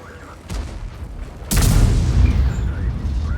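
High-explosive round fired from a tank gun in the game World of Tanks: a soft distant thump, then a heavy close blast that rolls into a long low rumble.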